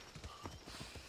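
Horse hooves clip-clop in a quick, steady trot in the video game Assassin's Creed Odyssey, fairly close, over a continuous hiss of wind or ambient noise.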